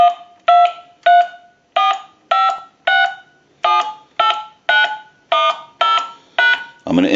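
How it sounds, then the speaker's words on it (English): Payphone handset sounding a string of about a dozen crisp dual-tone keypad beeps in steady succession, each short and evenly spaced, loud and close, ending in a brief burst of broadband noise. "We want to dial our numbers. If you watch the analyzer, you'll watch the numbers roll by."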